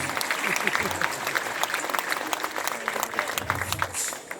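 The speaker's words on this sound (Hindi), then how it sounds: "आज भैया तालियां बजानी तो जोरदार बजाओ" Audience claps steadily at a stage event honoring Mahavir, a dense patter of hands with some voices mixed in beneath.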